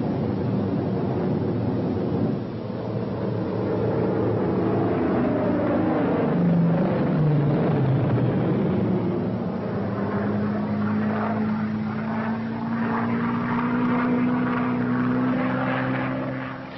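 A steady propeller aircraft engine drones loudly throughout, with a rising and falling pitch as World War II warplanes pass overhead attacking ships; no voices.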